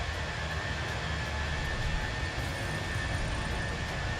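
An airliner in a flight simulator game rotating on its takeoff roll: a steady, loud, dense engine roar that holds constant throughout, alone with no talking.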